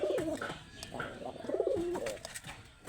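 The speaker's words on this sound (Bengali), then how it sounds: "এই দেখেন সিরাজি কবুতর" A Sherazi pigeon coos close by, with two soft, rolling coo phrases in a quiet indoor setting.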